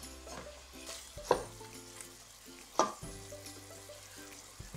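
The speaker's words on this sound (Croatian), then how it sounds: "sada ćemo ovo sve skupa popržiti, znači meso zajedno sa lukom pržimo nekakvih desetak minuta" Chicken and onion fry together in a pan for a soup, with a continuous sizzle and two sharp clinks from stirring against the pan.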